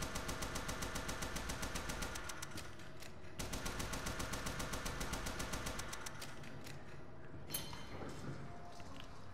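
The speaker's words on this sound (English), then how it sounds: "Tommy gun!" Tommy gun fired in the Bendy and the Ink Machine video game, sustained rapid bursts of automatic fire with a brief pause between strings, fairly quiet and steady.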